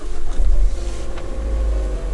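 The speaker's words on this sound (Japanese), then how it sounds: "というわけでじゃあエンジンかけていきます" A Ford Focus ST with a left-hand-drive manual gearbox starting up, settling into a steady, fairly quiet low engine hum that fills the whole moment with no talk.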